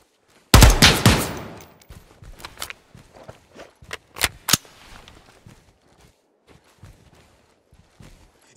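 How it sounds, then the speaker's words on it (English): Gunfire in the tactical shooter Ground Branch during a power station mission: a loud burst of shots up front, then scattered single cracks and short bursts, some close and some more distant. "They're shooting at me!"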